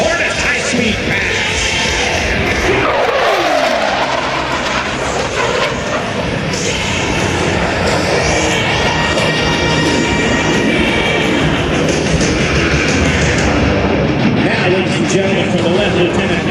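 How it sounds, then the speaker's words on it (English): F/A-18C Hornet jet making a high-speed pass at an air show, a loud, sustained roaring rush of engine noise that swells and holds across the pass, with an announcer talking over it. "From the right, the A-18 Hornet high-speed pass."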